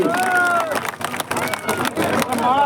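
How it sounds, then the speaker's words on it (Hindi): Applause and cheering break out from a crowd at a political rally, with clapping and crowd noise rising and falling over a couple of seconds while a voice speaks over a loudspeaker. "जोरदार तालियां"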